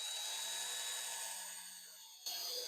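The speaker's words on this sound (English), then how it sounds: "drill this one too" Power drill boring a hole in a Celica's rear body panel for a spoiler, a high whining drone that dips slightly then kicks back up, close and alone.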